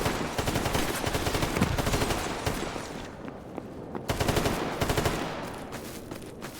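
Rapid in-game gunfire from STALKER Invictus GAMMA in Pripyat, dense bursts of automatic shots crackling in two main stretches with a brief lull between, loud and close, no talk over it.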